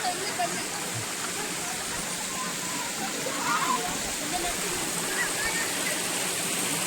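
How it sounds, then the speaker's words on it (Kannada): Jog Falls in the rain, a waterfall running in heavy flood, gives a steady broad roar of rushing water throughout, with faint voices of a crowd of visitors mixed under it. "ಇದೇ ಜೋಗ್ ಫಾಲ್ಸ್"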